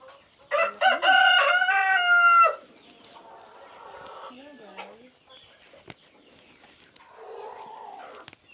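On a farm, a rooster lets out a loud, long crow nearby, then chickens cluck softly and intermittently in the background.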